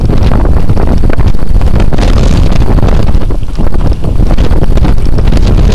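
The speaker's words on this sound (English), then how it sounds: "My feet smack against each other. Because of the wind." Strong wind blowing along a road in Mongolia, loud and continuous buffeting roar with gusty surges, heavy rumble battering the microphone throughout, no voices.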